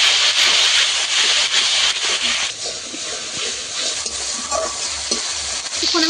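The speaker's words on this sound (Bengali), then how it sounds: "সমস্ত মশলা আমি একসঙ্গে কিছুক্ষণ কষাবো" Green chilli, tomato paste and spices sautéing in a pan with a steady, close sizzle and scraping stirs throughout, loud and without talk, for a fish curry.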